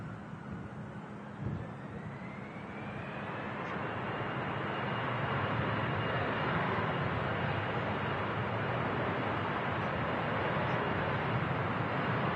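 An aircraft departs runway 23 left at Manchester Airport, its engine roar building from a distant rumble to a loud, sustained broadband thrust that holds steady to the end, with no voices.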